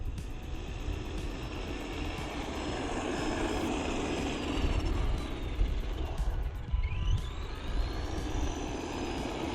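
An ARRMA Vorteks 4X2 Boost Mega550 RC car makes a backyard speed run, its electric motor whining loudly and steadily with a rising pitch sweep as it passes, over wind and outdoor rumble.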